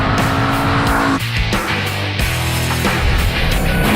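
A Ford Mustang Boss 302 with 444 horsepower drives hard, its engine revving loudly through gear changes as the tires squeal, close and continuous.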